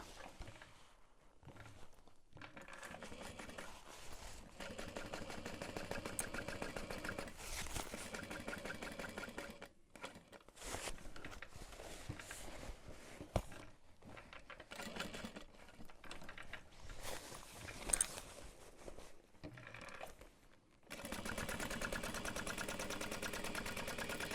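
Sewing machine top stitching along a backpack seam, a steady mid-pitched mechanical whir running in long bursts with brief stops between runs, close and continuous.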